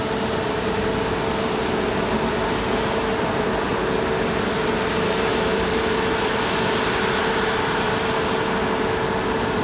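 An airliner arriving from Charlotte at Raleigh Durham airport gives a constant, loud engine drone with a sustained tone, unbroken for the whole stretch and no voices over it.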